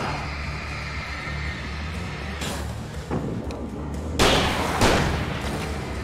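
Several loud gunshot blasts crack over a steady low hum, with a big burst near the end, like rapid fire in the PC video game Alan Wake.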